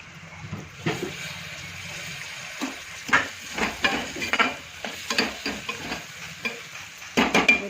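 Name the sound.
potatoes and chickpeas roasting in spiced oil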